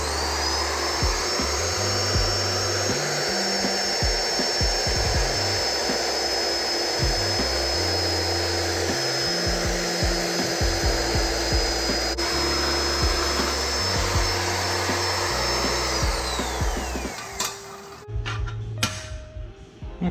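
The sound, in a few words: power saw, grinder and sander shaping a stainless steel motor mount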